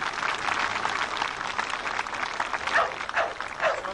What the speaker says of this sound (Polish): Prosimy o brawa.